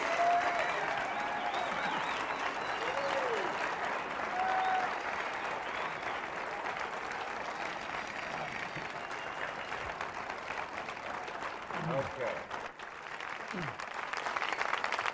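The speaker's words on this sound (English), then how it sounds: "A very well-deserved round of applause." A festival seminar audience applauds the Smothers Brothers, Bob Einstein, Steve Martin and Mason Williams, with steady dense clapping and crowd noise filling the room throughout, a few whistles rising above it and a brief spoken word near the end.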